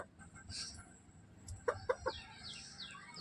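A few short clucks from a hen, three quick notes in a row over a quiet rustling background, fairly faint.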